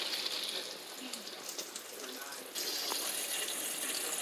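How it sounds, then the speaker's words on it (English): Cooked macaroni is poured off into a strainer, and the hot water gushes in a steady, fairly quiet splashing rush that swells again partway through. "I'm draining the pasta noodles."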